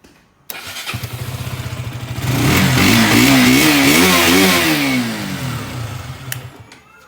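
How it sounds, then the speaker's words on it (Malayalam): A motorcycle engine fires up, idles with a rapid chugging pulse, then revs up loudly in rising and falling surges before settling back to idle. "അപ്പോൾ നമുക്ക് ഇതിന് എഞ്ചിൻ സൗണ്ട് നോക്കാം"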